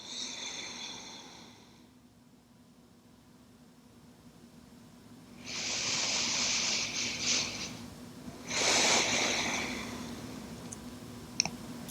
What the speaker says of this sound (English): Working to lengthen our inhales and exhales here.